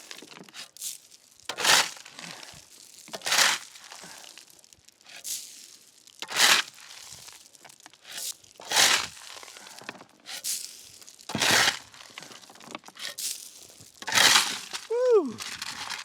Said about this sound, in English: The shovel went through the pile.